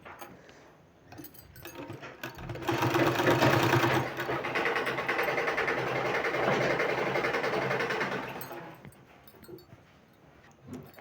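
A sewing machine stitches a beaded sleeve, running in one steady, loud mechanical burst of several seconds, with quieter handling noises before and after.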